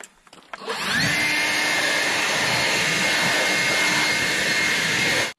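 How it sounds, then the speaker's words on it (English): A leaf blower starts up and runs at a loud, steady roar, blowing debris off a lawn mower deck, a continuous airy whoosh with a faint whine that holds for several seconds before stopping suddenly. "Go ahead and hit that with a blower too with that off."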